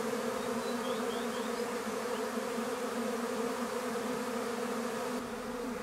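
Honeybee swarm clustering outdoors in early spring, a dense, continuous buzzing drone from many bees, steady and fairly close with no voices.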